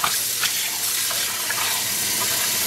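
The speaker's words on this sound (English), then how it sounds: "we're gonna start rinsing this out" Running tap water pours steadily over green acid-dyed yarn being rinsed in a sink, a constant close rushing splash with slight gurgling fluctuations.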